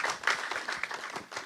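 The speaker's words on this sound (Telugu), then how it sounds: "అందుకని మా సార్కి ఇంకోసారి క్లాప్స్." An audience at a film trailer launch event claps in a short, fairly faint patter of scattered hand claps lasting under two seconds, with no speech over it.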